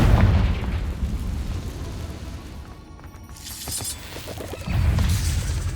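Confringo fire spell blasts in Hogwarts Legacy: a loud booming explosion at the start, crackling bursts and debris in the middle, then another heavy rumbling blast near the end, with no voices.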